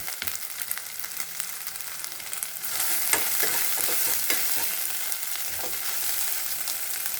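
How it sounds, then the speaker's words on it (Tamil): Ginger garlic paste sautés briefly in hot oil in a pan for a chicken fry, a quiet sizzle that swells louder partway through, with soft stirring scrapes and no talking. "இஞ்சி பூண்டு பேஸ்ட்டு ரொம்ப நேரம் வதக்கணும்னு அவசியம் இல்லை. சும்மா ஒரு 5 செகண்ட் வதக்குனிங்கனாவே போதும்."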